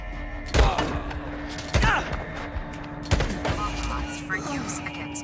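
Several loud gunshot bursts in the Days Gone video game, three sharp cracks at roughly even intervals with echoing tails, trailed by fainter shots and mechanical clatter.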